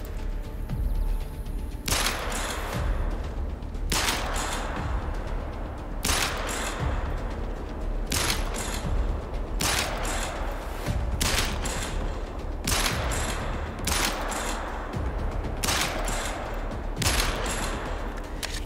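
Glock pistol shots in a hunting video game, fired one at a time in a steady series of sharp, loud cracks spaced about a second or two apart over a constant background hum.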